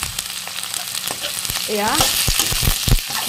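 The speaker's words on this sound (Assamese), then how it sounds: "দি দিলোঁ অকণমান একদম ৰঙচুৱাকৈ ভাজি ল'লোঁ পিঁয়াজখিনি" Onions frying in a pan until reddish-brown keep up a steady, close sizzle with occasional clicks of stirring, while a person speaks briefly over it.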